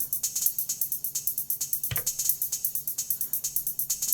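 Elektron Analog Rytm drum machine playing a techno pattern with heavy reverb: a fast, steady loop of bright hi-hat ticks over soft low thumps, with one louder low hit midway, alone and evenly paced.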